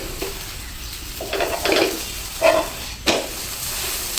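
An onion paratha roasting in homemade ghee on a griddle, with a soft continuous sizzle broken by a few louder scraping and stirring clinks.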